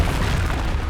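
Explosive blasts from Bombarda and Confringo spells in Hogwarts Legacy, a dense, loud, continuous rumbling boom with layered bursts and no pauses, heard up close.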